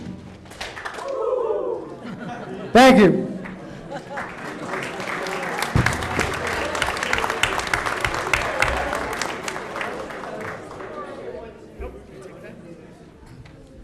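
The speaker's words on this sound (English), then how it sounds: "Freshmen, on my ready, give me 2 hits, clap, and a woo" A team of freshman boys at a school board meeting gives two sharp hits, a clap and a cheer on cue, then broad applause with voices follows under a short spoken thanks.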